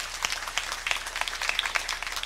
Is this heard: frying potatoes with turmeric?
no